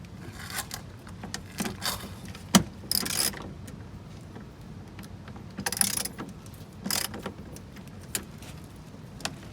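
A ratchet wrench clicks in short bursts as 8mm bolts come out of the engine undercover beneath a 2009 Mercedes E350 W211 during an oil change, with scattered metallic clinks and rattles between the ratcheting.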